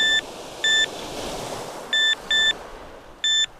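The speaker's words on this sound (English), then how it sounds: "Give you a audible alarm, and it gives you a purple light here" Electronic fishing bite alarm on a sea fishing rod at night, sounding five short, clear, high-pitched beeps in an uneven pattern over a steady wash of surf and wind.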